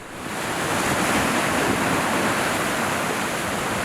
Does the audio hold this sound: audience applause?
no